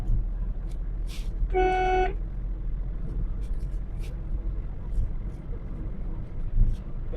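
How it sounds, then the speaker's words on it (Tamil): A car driving steadily in fifth gear gives a low, continuous road and engine rumble. A short horn toot sounds near the start, and light background noises appear along the way. "இப்போ 5வது கியர் மாற்றிருக்கேன்."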